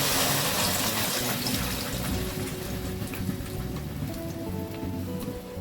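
Coriander leaf paste hits hot garlic-infused oil in a kadai, giving a dense, continuous crackling sizzle that stays loud and steady, close up, with no talking.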